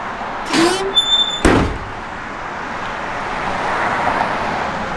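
Doors of a restored 1966 Pontiac GTO shut with two solid close thuds in quick succession, near and loud, followed by quiet ambient hiss.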